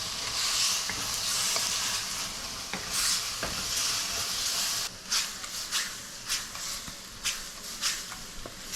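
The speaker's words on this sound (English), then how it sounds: "I'm gonna put my sauce into the wok" Chicken stir-frying with sauce in a wok, a steady hissing sizzle that gives way to a series of rhythmic spatula scrapes and tosses near the end.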